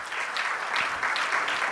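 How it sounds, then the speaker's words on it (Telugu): A church congregation claps together in a steady rhythmic beat, roughly two claps per second, loud and close, a brief unbroken stretch of unison clapping. "గట్టిగా చప్పట్లు కొట్టి దేవుని స్తుతించండి"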